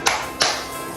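Two sharp, close hand claps about a third of a second apart, followed by a softer tap near the end, in a quiet room.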